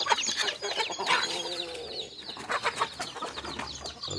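Country chickens just let out of their coop cluck and call all the way through, close by and busy, with overlapping chatter and no talking.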